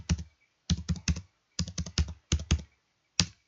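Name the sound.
typing on a computer keyboard and pressing Enter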